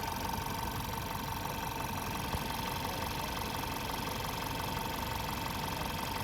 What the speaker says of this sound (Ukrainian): Двигун працює рівненько, все як має бути.